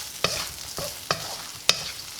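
Spatula scrapes and stirs soya chunks with sliced green chillies in a frying pan, four sharp, close strokes spaced about half a second apart over a soft background hiss.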